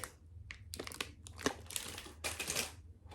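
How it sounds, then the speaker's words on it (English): A plastic bag crinkles and rustles as hands handle it, giving several irregular bursts of crackling close by with short quiet gaps between them, while a low hum runs underneath. "It comes in this plastic bag."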